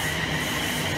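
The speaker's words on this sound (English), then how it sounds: "London Northwestern Railway class 350s come in, forming a service from Tring to London Euston." A London Northwestern Railway Class 350 electric train runs through Berkhamsted station on a Tring to London Euston service, a steady loud rumble and hum of wheels on rails heard up close.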